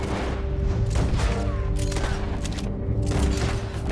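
Rapid bursts of Red Dead Redemption 2 gunfire crackle in quick succession, loud and busy over a layered backdrop of game sounds.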